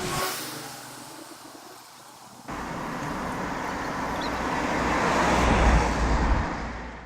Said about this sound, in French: le point positif c'est qu'il y a beaucoup de voitures qui passent